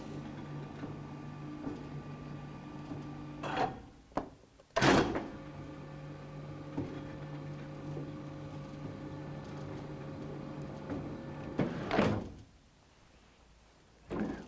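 A460 lift door system on its final test run: a steady mechanical hum with a couple of sliding door thuds and clunks, one near the start and another toward the end, at modest volume.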